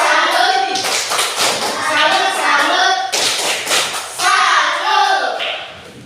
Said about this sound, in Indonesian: Tepuk salut untuk diri sendiri dulu.